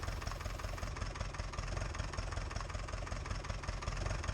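A tractor engine idles in the Farming Simulator 19 video game, a steady low rumble held at an even level throughout with no talking.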